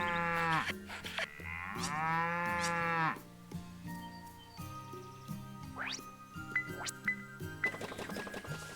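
Cows moo in the farming video game Pioneers of Olive Town, with two long, loud, drawn-out lows first. Several shorter game chimes and jingly interface tones follow.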